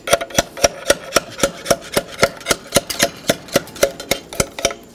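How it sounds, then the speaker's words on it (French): Roofing slate is trimmed by hand with a slate hammer on an anvil in a church restoration, making about twenty sharp, evenly spaced chopping strikes, close and crisp, with no talk. "Donc voilà comment on taille l'ardoise."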